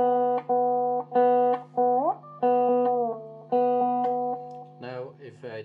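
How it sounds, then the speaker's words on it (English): Sustained electric guitar notes through a DIY modular delay effect board, played one after another, each ringing out with a faint echoing repeat, ending in a brief wobbly, bending flourish. "The delay on itself sounds like this."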